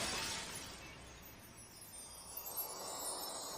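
Window glass shatters in an anime as a ball is hit through it, a bright crash at the start that fades into a scattered, tinkling spill of fragments over a few seconds, fairly quiet overall.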